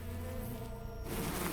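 Swarm of bees buzzing in the video game The Hundred Line, a dense continuous drone that swells louder toward the end, heard alone with no talk.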